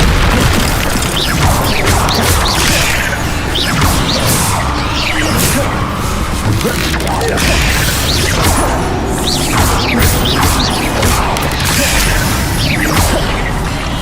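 In Hogwarts Legacy gameplay, loud and continuous combat blasts from an Incendio fire spell mix with whooshes, booms and crashes in a dense, chaotic wall of sound.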